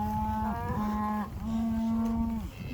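A cow moos during a cattle drive, giving two long, loud, drawn-out lowing calls close by with a brief gap between them, and no one speaking.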